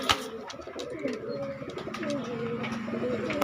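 Pigeons at a pigeon shop coo in overlapping low, throaty calls, close and steady, with a sharp knock at the start and someone talking faintly in the background.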